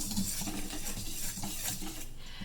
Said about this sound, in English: We'll just give that a quick whisk again